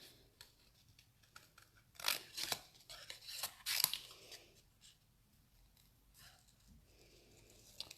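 Scissors snipping out small pieces by hand, several quick close cuts bunched in the middle with quieter paper handling around them, no talk.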